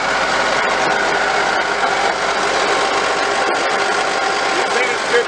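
The engine of a Furukawa FL150 wheel loader runs with a steady, loud, close mechanical drone and an even vibrating hum that barely changes.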